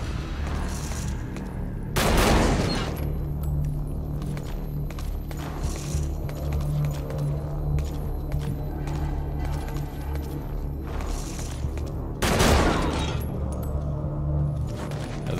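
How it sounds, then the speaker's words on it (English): Gunfire in Metal Gear Solid V breaks out as two sharp, loud bursts with scattered lighter shots and booms in between, all over a constant in-game background hum. "Oh, they're shooting the patients."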